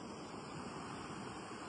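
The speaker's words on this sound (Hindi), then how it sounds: "पानी बह रहा है" Faint continuous rush of water flowing along the Gomukh trek, an even broadband wash with some wind, steady and distant throughout.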